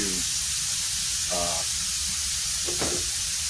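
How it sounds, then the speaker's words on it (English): Steady broadband hiss of air purging from an Eastwood Elite QST 30/60 scroll air compressor, a continuous rushing sound throughout, with a few brief faint tonal squeaks partway through. "So the air's still, purging out."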